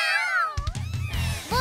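An animated cartoon cat from the children's show O Show da Luna gives a short series of bright, sliding meows, close and clear, with a brief thump in between.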